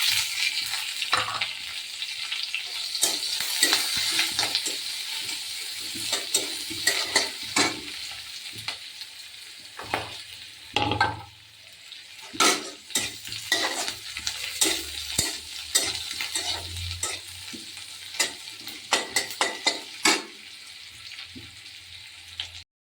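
Green chilli and chopped onion fry in hot oil tempered with cumin, bay leaf and dried red chilli, making a steady close sizzle broken by repeated scraping strokes of a spoon stirring the pan, with no voices.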